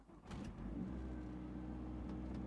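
A Mazdaspeed3's engine cranks briefly and catches, then settles into a steady low idle hum, fairly quiet and close, with no talk.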